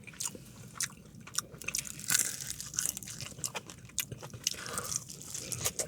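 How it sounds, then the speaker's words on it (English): Close, quiet chewing of crunchy fried chicken, with repeated crisp crunches in an irregular rhythm and no talking. "It's got a little bit of a crunch to it."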